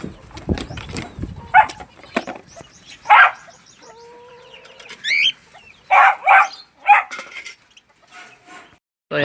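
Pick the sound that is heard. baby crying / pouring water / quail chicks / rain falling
quail chicks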